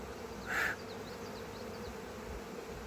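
Honey bees buzz around a nuc hive, a steady close droning hum with one louder pass of a single bee near the start, all fairly quiet and with no voices.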